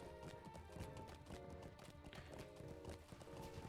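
A horse's hooves beat a steady trotting rhythm in the video game The Lord of the Rings Online, a regular steed ridden over a constant game backdrop, close and continuous with no voices.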